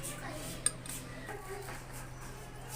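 Sandwiches are dished out onto plates in a home kitchen: one sharp clink of crockery stands out early, followed by faint handling and scraping sounds against a low background hum.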